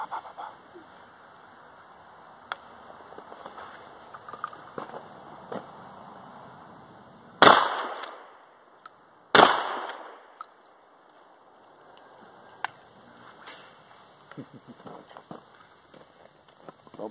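Two loud blasts from a Remington Model 870 pump shotgun firing at bottles outdoors, about two seconds apart, each with a long booming decay, over faint ambient noise and light scattered clicks.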